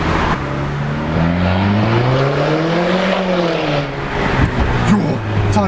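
A tuned exhaust on an Audi A5 2-litre turbo booms from a close, loud engine note. It climbs in pitch, eases back down and then holds a steady drone.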